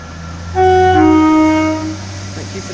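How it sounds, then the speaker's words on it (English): Transport for Wales Class 175 diesel unit 175105 pulling out of Cardiff Central, its engine a close, steady droning tone that swells loud and then eases slightly as the train moves off. "Now about ready to depart is the 1405 Transport for Wales service to Manchester Piccadilly. This is 175105"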